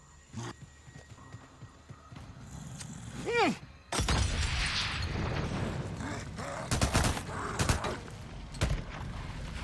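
In the zombie game Days Gone, a thrown Molotov cocktail bursts with a sharp glass shatter and flares into a roaring burn. Bursts of gunfire and clattering combat noise follow.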